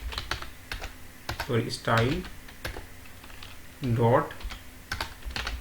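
Computer keyboard typing while entering JavaScript code, with soft key clicks in short bursts that run under steady talk from a man.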